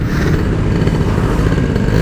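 A stock Yamaha RX King motorcycle's two-stroke engine revs close by, loud and raspy with a rough, clattering edge that holds steady for a couple of seconds.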